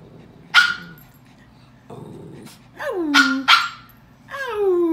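A dog sings on request, giving a few short barks and yips followed by drawn-out, sliding howls that rise and fall, close and fairly loud, with a voice speaking briefly between the calls.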